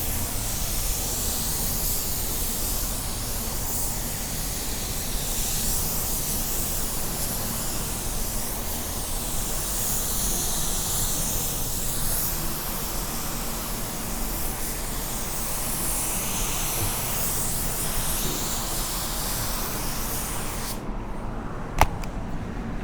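A spray gun lays automotive clear coat for a glass-like finish, a loud, continuous airy hiss running steadily for over twenty seconds before cutting off sharply near the end.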